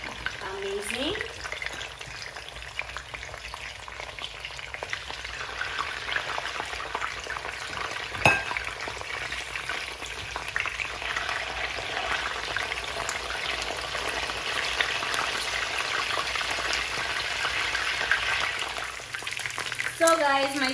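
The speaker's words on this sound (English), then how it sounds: "my turkey has been frying for the past 10 minutes" Steady, crackling sizzle of turkey pieces frying in hot oil, continuous and close, with faint voices in the background.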